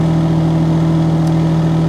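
A mini excavator engine runs loud and steady, a constant close drone with a strong low hum and no clear rises in pitch.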